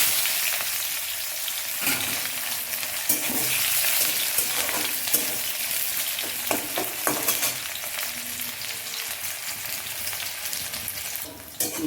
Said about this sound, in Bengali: প্রথমে এটা আমি পেঁয়াজটা দিয়ে দিচ্ছি